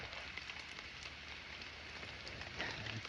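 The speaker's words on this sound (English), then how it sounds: "I really thought this rain was gonna ease up, but I was completely wrong" Heavy rain falls outdoors as a steady, even hiss of many drops on surfaces, continuous and moderately faint with no voices.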